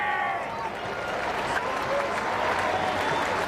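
A large crowd at a SANFL football grand final applauds and cheers in a dense, sustained roar that holds steady throughout and stays distant and broad.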